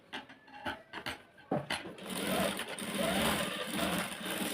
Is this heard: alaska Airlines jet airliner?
no